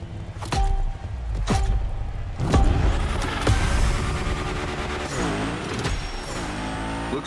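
Cars in The Crew driving game rev hard at a gymkhana event, loud engine roars rising and falling with sharp bursts and tire noise, continuous and close with no talk.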